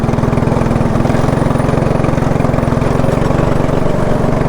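Small go-kart engine running steadily during a ride, a loud, close, rhythmic buzzing putter that holds constant without pauses.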